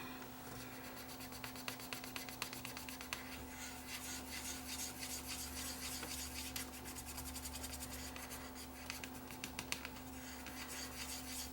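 Parts of a Toshiba M750 VHS recorder are scrubbed with cleaner, giving a steady, close rasping rub with quick scratchy strokes over a constant electrical hum.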